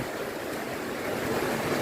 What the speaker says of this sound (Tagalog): Kung makikita nyo kasi sa labas, lakas na ng hangin